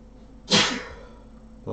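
A single sharp sneeze bursts out near the start of a quiet room recording, loud and close, trailing off over about a second before a voice begins at the end.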